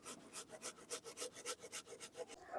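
Washed cauliflower florets rubbed against a kitchen grater, about a dozen quick rhythmic scraping strokes, close but soft, with no voices.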